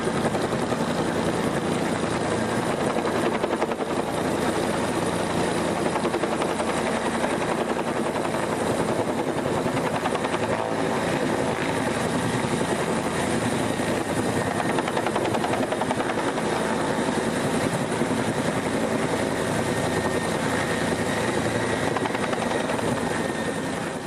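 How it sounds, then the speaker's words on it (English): Helicopters fighting a wildfire in British Columbia make a constant loud rotor roar, thick and unbroken throughout, with no talk. "supplying thermogel to the smaller, medium-sized helicopters at 500 to 700 gallons a bucket"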